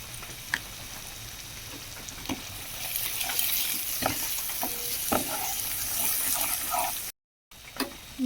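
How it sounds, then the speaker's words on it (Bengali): Spice masala with salt, turmeric and cumin powder sautés in a pan for a Bengali elephant foot yam dish, with a continuous close sizzle and regular spatula scrapes and taps, briefly cut to silence near the end; no speech. "মশলাটা কষানো হয়ে গেছে"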